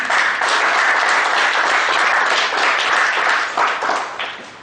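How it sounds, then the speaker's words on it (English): A hall full of people claps to welcome faculty members at a seminar on chartered accountancy exams, a close, vigorous burst of applause that stays strong and tapers slightly at the end. "please welcome all those faculties with a round of applause"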